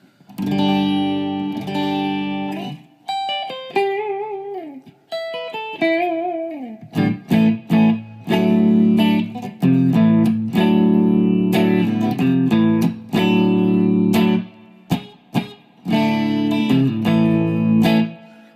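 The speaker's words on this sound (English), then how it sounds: "straight clean tone, just to give you guys a baseline" An electric guitar plays chords and single-note runs through an amp with a clean tone, no pedal effect, loud and close, with short pauses between strummed phrases.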